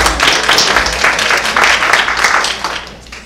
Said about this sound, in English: I always love it when people clap for the oaks.